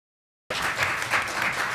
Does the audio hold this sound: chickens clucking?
no